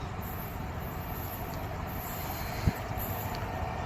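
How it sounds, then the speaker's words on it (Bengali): An Indian Railways freight train drawing near, hauled by two electric locomotives, heard as a steady rolling rumble with a high metallic wheel whine and one sharp clank partway through. "বন্ধুরা, এটি একটি মালগাড়ি আসছে"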